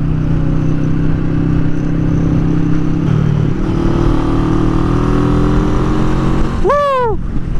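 A Bristol Bobber 650 motorcycle rides through asphalt curves, its engine droning loud and close at steady revs, shifting pitch partway, then a quick rising-and-falling rev near the end.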